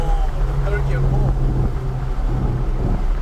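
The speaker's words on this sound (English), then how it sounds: "Oh, third gear pull." A sports car with four-wheel drive and drive-by-wire accelerates hard in third gear, a loud steady engine drone heard from inside the cabin with heavy wind rumble, a voice exclaiming over it.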